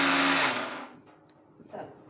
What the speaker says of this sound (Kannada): ಈಗ ಅದನ್ನು ತೆಂಗಿನ ತುರಿಯನ್ನು ಮಿಕ್ಸಿ ಜಾರಿಗೆ ಹಾಕಿ ಗ್ರೈಂಡ್ ಮಾಡಬೇಕು